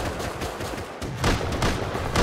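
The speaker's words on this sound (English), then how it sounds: "Why does the gun take forever to shoot?" Video game gunshots arriving as a rapid, dense cluster of cracks over a couple of seconds, fairly loud and close, with a brief lull before a heavier burst.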